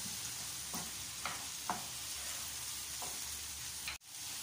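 Pineapple fried rice with curry powder and salt stirred in a pan, a soft low sizzle with a few faint scrapes spaced out, ending in a clunk, no voices.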